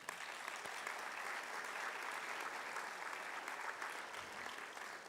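Steady audience applause filling a Martin Luther King Jr. Day celebration hall at Clemson, sustained and even for several seconds with no voices over it.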